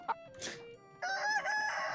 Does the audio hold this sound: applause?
no